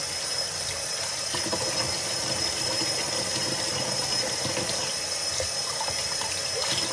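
Cold tap water runs steadily into a sink as it fills during wig washing, a continuous soft hiss and splash at moderate distance with no talking.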